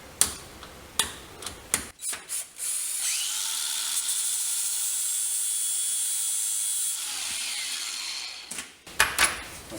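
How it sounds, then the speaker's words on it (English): A grinder whines steadily for about six seconds while cutting a keyhole into metal on a Polaris Sportsman 4x4 project, with clicks and knocks of handling before and after. "I'm gonna try to put a keyhole in it with a grinder."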